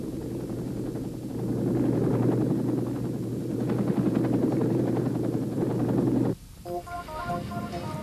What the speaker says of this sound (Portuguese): os helicópteros de resgate se aproximavam do ponto de salvamento